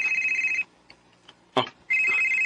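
A telephone rings in a drama scene: a loud electronic trill for about half a second, then a short burst of other sound, and the ringing starts again near the end.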